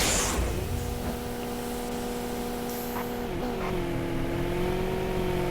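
Race car engines drone steadily in the Horizon Chase mobile racing game, a continuous close engine tone with a brief pitch shift midway and faint tire noise.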